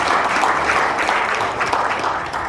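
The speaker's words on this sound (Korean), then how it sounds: "박수로 환영해 주실까요?" An audience gives a warm round of applause to welcome a speaker, steady clapping from many hands filling the room for a couple of seconds.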